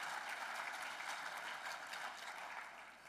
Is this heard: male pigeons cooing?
no